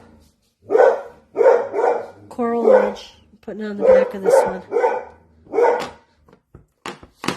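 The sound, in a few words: dogs barking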